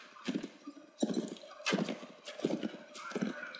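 Horse hooves galloping across the ground during a Mongolian battle in the Mount & Blade video game, a series of heavy, rhythmic clip-clop bursts, close and loud, with no speech over them.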